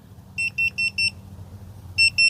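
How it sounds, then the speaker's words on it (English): A BlueSwan smart meat thermometer alarm sounds four quick high beeps in a row, a pause, then two more, clear and close over faint background hiss. "It's beeping, beeping."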